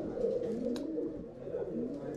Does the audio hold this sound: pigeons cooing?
yes